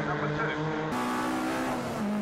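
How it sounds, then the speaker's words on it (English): An MG Trophy race car engine at Brands Hatch howls at high revs and shifts pitch as it powers through, loud and close, with a commentator talking over it. "Again, that superb engine note from Patrick Booth."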